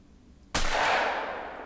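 A single loud hunting rifle shot in the hunting game theHunter: Call of the Wild cracks out abruptly after a quiet lull, then its long echoing tail rolls away through an open outdoor setting, with no voices.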